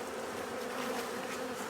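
Honey bees buzz around an open hive, a dense continuous drone of many wings, close and steady throughout.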